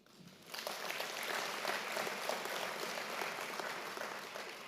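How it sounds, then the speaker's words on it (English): An audience applauds the Chancellor at a university's tenth anniversary celebration, with steady, dense clapping that swells quickly and holds throughout. "just to give a round of applause to our Chancellor"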